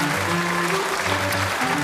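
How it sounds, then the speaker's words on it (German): A studio audience applauds former Landfrauenküche farm-women contestants on a Swiss TV cooking show finale, a steady wash of clapping with some tonal background music or voices underneath. "Ein Applaus."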